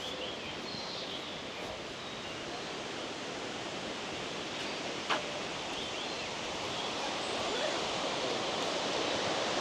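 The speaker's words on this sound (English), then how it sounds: "And that is a massive waterfall." Tumpak Sewu waterfall roaring as a constant broadband wash of falling water, steady and moderately loud, with no other sound standing out.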